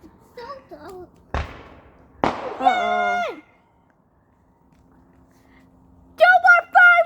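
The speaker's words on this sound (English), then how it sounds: "No more fireworks!" Two sharp firework bangs go off a second apart, close and loud, between bursts of children's voices, followed by a quiet pause and then more children speaking.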